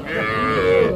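A calf at a cattle market near Dhaka lets out one loud, sustained moo close to the listener.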